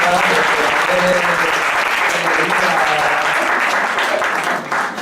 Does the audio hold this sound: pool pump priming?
no